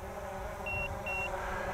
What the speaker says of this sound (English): That beep, beep is telling you that the battery's low.